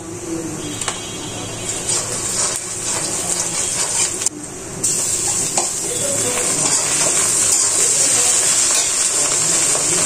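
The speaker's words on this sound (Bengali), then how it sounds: "এখন দিয়ে দিচ্ছি এই আদা ও রসুন বাটা" Ginger-garlic paste hitting hot oil in a pan for pigeon curry, giving a steady, loud broadband sizzle that holds throughout with a brief dip midway, no talking.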